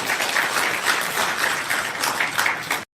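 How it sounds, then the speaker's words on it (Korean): Steady applause from an audience at a Gwangju nature-conservation activity report and green-living forum, dense and even throughout before cutting off abruptly near the end. "수고하신 김정혜 봉사위원장님께 박수 부탁드리겠습니다"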